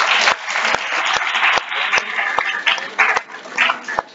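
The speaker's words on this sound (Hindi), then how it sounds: "अपने आप के लिए, एक बार ताली बजा दीजिए।" An audience at a youth parliament event in Mohan Nagar, Ghaziabad claps unevenly, with sharp separate hand claps standing out over a wash of clapping while voices and cheers mix in.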